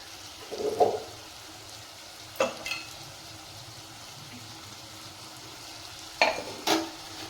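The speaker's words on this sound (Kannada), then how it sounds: "ಈಗ ಇದನ್ನು ಸ್ವಲ್ಪ ಕೈ ಆಡಿಸಿ" A spoon stirs gourd curry seasoned with chili powder in a frying pan, giving a few brief scraping strokes over a faint, steady sizzle.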